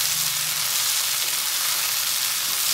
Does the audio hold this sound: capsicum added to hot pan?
yes